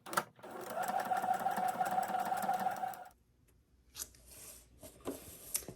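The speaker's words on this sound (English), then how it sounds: "number 9 is sewn on" A sewing machine stitches a tiny piece onto a quilt block in one steady, close run of rapid mechanical chatter for about three seconds, followed by quieter fabric handling and small clicks.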